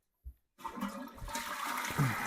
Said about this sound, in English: Did you just flush the toilet?